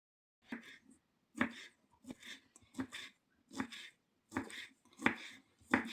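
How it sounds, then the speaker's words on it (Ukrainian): A knife slices sausage on a board in about nine evenly spaced, crisp chops, close and quiet, with nothing else around. "Так, отак нарізаю колбаску."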